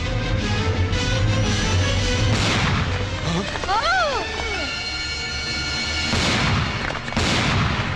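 Gunshots ring out in a courtroom scene of a Kannada drama film: a few sharp, loud blasts cut through dialogue and dramatic music, the last ones falling near the end.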